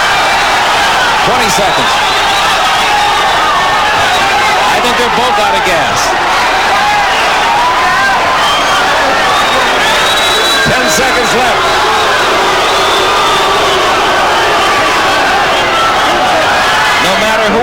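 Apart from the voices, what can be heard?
boxing crowd cheering during fight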